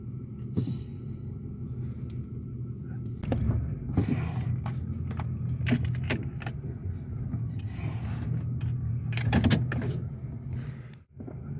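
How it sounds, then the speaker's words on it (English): Brake pedal on a car with a freshly repaired brake booster being pressed repeatedly, giving several distinct clunks and clicks over a steady low rumble inside the vehicle, close by with no talking. "That's why you hear that brake pedal."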